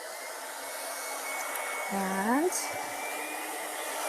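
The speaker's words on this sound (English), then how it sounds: "so I'm going to use a hair dryer" A hair dryer blowing hot air into a model hot air balloon gives a steady airy whoosh, its pitch rising briefly as a voice speaks over it, then settling back to a constant roar.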